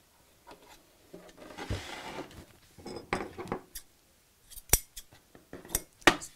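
Scissors trim ribbon on a fabric clutch bag, a series of close, quiet snips and rustles of fabric, with a couple of sharper clicks near the end and no talking.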